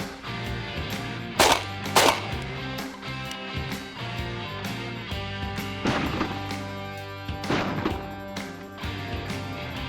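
Shotgun blasts ring out during a dove hunt in a field, two sharp reports in quick succession followed later by two more, over a steady background with music.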